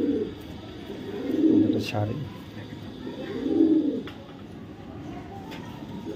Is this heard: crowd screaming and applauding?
no